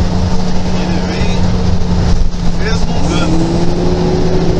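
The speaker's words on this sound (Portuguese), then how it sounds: "Sentindo o ronco do freio motor aí, o freio motor berra na descida." A truck's engine brake roars steadily on a downhill road in São Paulo state, heard from inside the cab with a constant drone. Someone talks over it.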